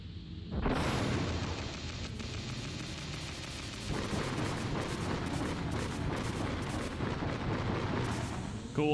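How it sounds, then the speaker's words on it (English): A missile launches and explodes in Metal Gear Solid, a sudden loud blast that rolls into a long, dense roar of fire and debris, staying heavy for several seconds before another burst near the end. "I probably shouldn't have fired this missile."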